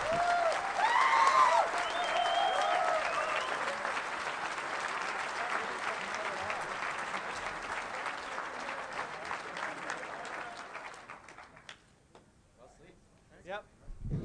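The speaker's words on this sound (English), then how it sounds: "Let's give them a round of applause." A large conference audience at the DEFCON 17 closing ceremony applauds the CTF winners, sustained dense clapping with some cheers that gradually thins out and fades near the end, leaving a few scattered claps.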